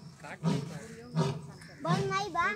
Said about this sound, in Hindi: देखिए शेर कितना तेज तेज आवाज़ में दहाड़ रहा है